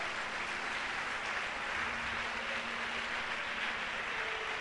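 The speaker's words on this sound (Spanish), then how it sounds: "Si ese aplauso es para Él," Steady wash of congregation applause in a church worship service, dense and even, heard from a distance and fairly faint, with no talking over it.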